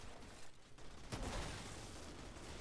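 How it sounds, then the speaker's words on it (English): Gunfire in the video game Outriders, with a Technomancer fighting a Pyromancer: one sharp shot followed by a rough, sustained roar of fire amid constant background noise. "Someone else is shooting at me."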